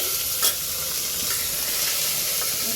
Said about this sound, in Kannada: ಬೇಳೆ ನೆನೆಸಿಟ್ಟಿದ್ವಲ್ಲ ಅದನ್ನ ಹಾಕ್ತಾ ಇದೀವಿ